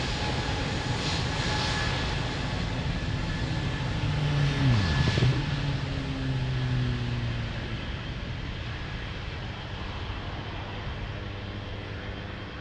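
Airplane engines roar steadily on the runway at Lisbon Airport during a takeoff, a broad continuous rumble that swells slightly midway and then holds at a constant loud level throughout.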